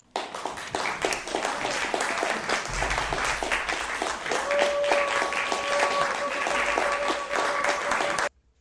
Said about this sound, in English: So I'm gonna play the applause